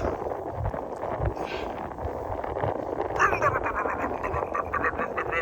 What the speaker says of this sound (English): it's mega windy and my hat keeps blowing off my head